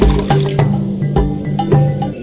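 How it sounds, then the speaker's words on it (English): Water poured into a saucepan while cooking jackfruit seed curry in an African village, a splashing, filling stream with repeated sloshing pulses, close and steady throughout. "in our saucepan, I'll go ahead and add water."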